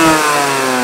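Go-kart engine on a track at high revs, held near 15,000 rpm, a loud steady buzzing whine with strong even harmonics, close and alone.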